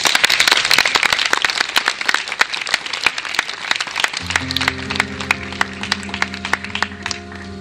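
Warm audience applause at an open-air tribute concert in Fasano sul Garda, dense crackling clapping that carries on as band music comes in partway through.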